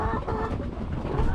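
Laying hens on a poultry farm cluck and murmur as a dense, close flock, a continuous low chatter with no clear individual calls standing out.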